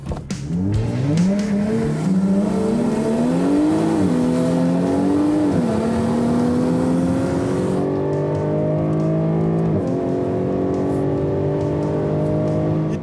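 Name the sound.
3-litre naturally aspirated V6 race car engine revving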